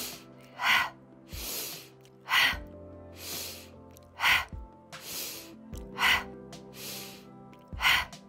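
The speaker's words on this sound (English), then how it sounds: "Nice powerful breath in and out. Sniff in, ha out." Powerful breathing exercise during a yoga flow, alternating sharp sniffed inhales with forceful open-mouthed ha exhales, about five or six loud bursts repeating steadily and close up over soft background music.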